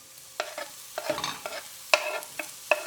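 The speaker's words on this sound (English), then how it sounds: "saute for another minute, and add the bacon" Shallot, garlic and bacon sautéing in a pan, with a soft sizzle under sharp, irregular clacks of a utensil stirring and scraping nearby, and nobody speaking.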